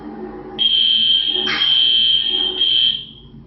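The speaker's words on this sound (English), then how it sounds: "Setting off a fire alarm on Easter Sunday to terrorize a man in a wheelchair" A fire alarm sounds with a piercing, loud electronic tone that starts abruptly, holds for over two seconds with a brief burst in the middle, then cuts off, over a faint low background murmur.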